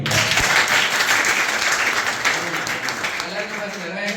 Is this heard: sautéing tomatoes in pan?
no